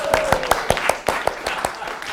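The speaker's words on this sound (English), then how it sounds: "Let's give her a great big round of applause." A few people clap in a brief, sparse burst of audience applause at a rhetoric talk at Amherst College, the sharp claps spaced unevenly, with a voice speaking faintly underneath.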